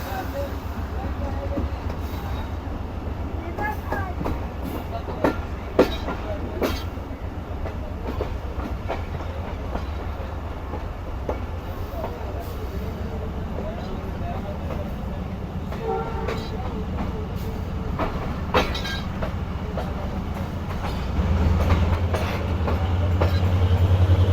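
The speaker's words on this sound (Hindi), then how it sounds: "और ये ट्रैक चेंज करके ट्रेन हमारी प्लेटफॉर्म लाइन यानी लूप लाइन पर आ रही है।" Shalimar Express rolling behind its locomotive into Ghotki station, switching tracks onto the loop line: a steady low rumble of wheels with repeated clacks over the points, growing louder toward the end, with faint voices underneath.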